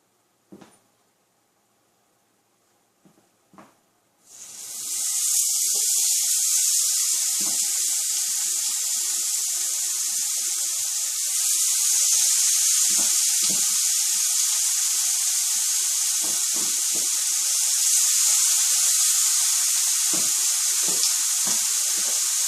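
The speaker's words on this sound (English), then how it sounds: "I'm just going to basically drop it in to see if it sizzles." A loud, steady hiss of seasoned chicken sizzling in hot oil in a pan starts suddenly after a few quiet seconds of faint clatter, then continues with occasional pops and crackles.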